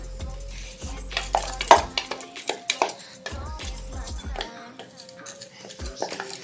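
Ground meat for stuffed aubergines goes into a frying pan, with close metallic clatter and scraping of utensils against cookware in uneven bursts and a faint sizzle beneath.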